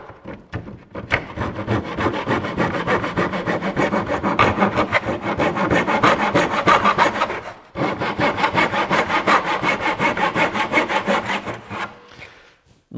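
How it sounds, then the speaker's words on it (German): A hand saw cuts through wood in fast, rhythmic back-and-forth strokes, close and loud, with one brief pause midway before the sawing resumes. "Wir sägen jetzt einfach mal 90 Grad einmal ab"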